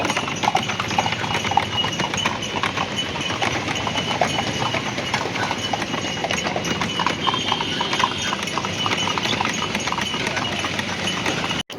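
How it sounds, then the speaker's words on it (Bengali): Hooves of a horse pulling a tonga clip-clop steadily and continuously at close range, a brisk unbroken rhythm over a busy street background. "আমরা সবাই মিলে টাঙ্গা চাপলাম আর টাঙ্গা এনজয় করলাম। ওই খটখট খটখট আওয়াজটা খুব ভালো"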